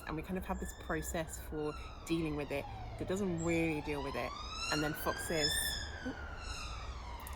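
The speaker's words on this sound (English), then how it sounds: "sorry about the sirens" Emergency sirens wail outside, their pitch rising and falling across the whole stretch at moderate distance, beneath a person speaking close by.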